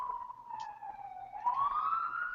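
An emergency siren wails outside, its rising and falling tone sweeping steadily and slightly muffled, as if heard from indoors at a moderate distance, with no talking over it.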